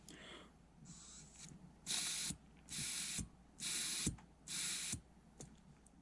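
Four breathy bursts of air blown through a short length of motorcycle fuel line on a Yamaha XV750, each puff lasting about half a second and spaced evenly, close and fairly loud over a quiet room.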